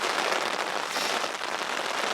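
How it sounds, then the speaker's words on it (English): Hard rain falls steadily during a solo mule deer hunt in the Colorado high country, a dense, even hiss of drops close by with no break or talk. "It rained pretty hard there for a while."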